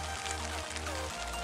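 Steady rain falls at a fishing lake, a close, even patter on surfaces mixed with low rumbling wind or handling noise and no talking.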